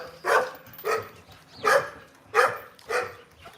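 A band dog barks five times in a steady, evenly spaced series, loud and close, with no talking over it.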